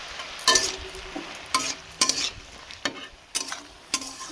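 Spices such as turmeric and dried chilli powder are stirred into toli greens frying in a pan, giving a soft sizzle broken by sharp, repeated scraping strokes at an irregular rhythm, close by and with no talk.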